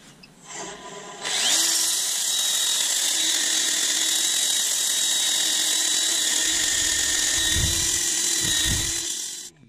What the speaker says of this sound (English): time for a little bit of sanding.